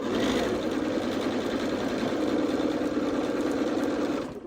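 A sewing machine runs at a steady, fast pace stitching a quilt seam, a continuous whirring hum with no talk, then cuts off abruptly at the end.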